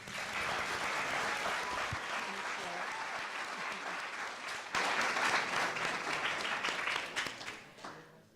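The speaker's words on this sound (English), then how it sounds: "big round of applause to all finalists" An audience at a college entrepreneurship venture challenge gives sustained applause, a dense wash of clapping that swells halfway through, then tapers off near the end, with some voices mixed in.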